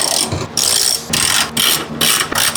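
A hand ratchet wrench loosening stubborn bolts on a Porsche, several rapid clicking pawl runs separated by short pauses, close and loud with no talking.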